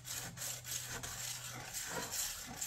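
A blade is sharpened in figure-of-8 strokes on a wet stone, producing a continuous close gritty rasping with a soft, even rhythm and no voices.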